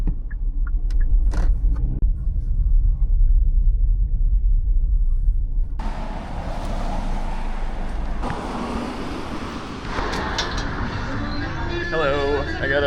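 Car pulling up to a stop while out on food delivery on a chilly day, low rumbling engine and road noise throughout, easing off partway through with a voice talking over it.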